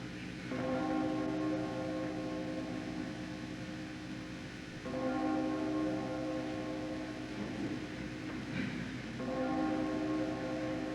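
A heavy bell tolls slowly in a 1992 Macbeth film adaptation. Three or four deep strikes land about four seconds apart, each leaving a long, humming ring that sustains into the next.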